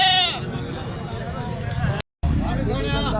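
Goats bleat loudly and repeatedly at a busy livestock market, with crowd chatter and voices around them and a brief gap in the middle.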